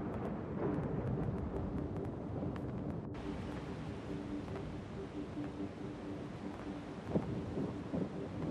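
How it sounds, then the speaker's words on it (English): Stormy rumble and gusting wind surge through a Battlefield 2042 battlefield on the Orbital map as a storm approaches, a steady broadband roar with scattered sharp cracks and impacts layered on top. "Incoming storm!"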